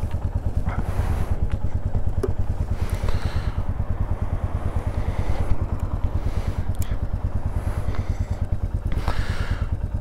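A Royal Enfield Meteor 350 motorcycle engine runs close by, a loud, even single-cylinder thump at a steady idle rhythm throughout, alone without speech.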